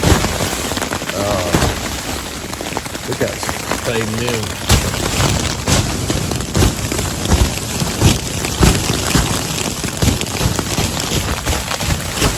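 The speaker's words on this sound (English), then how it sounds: "Major thunderstorm going on right now." Heavy thunderstorm rain drumming steadily on a tent on the Appalachian Trail after hail, a dense close patter with occasional sharper drops, while someone speaks briefly over it.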